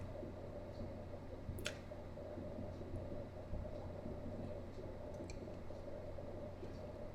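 A cutting deck with paper is run through a die-cutting machine, producing a quiet, steady low rolling rumble throughout, with a faint click near the start.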